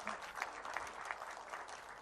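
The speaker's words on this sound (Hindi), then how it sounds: "उसके लिए तालियां बजाएं आप सब।" Applause from the audience at a DALFA Expo ceremony in Pakistan, honouring an organising team: steady, even clapping that sounds distant and quite faint, lasting about two seconds with no voices over it.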